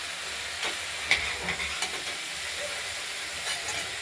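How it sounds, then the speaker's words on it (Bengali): Fish coated with turmeric fries in a pan, a continuous close sizzle and hiss broken by a few soft stirring clinks, with no one speaking. "মিডিয়াম মাছ রাখলাম এবার নেড়ে চেড়ে ঢেকে দেবো"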